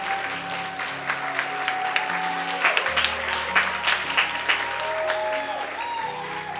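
A pageant audience applauds the university's Miss and Mr. contestants, continuous crowd clapping with a sustained musical tone playing underneath.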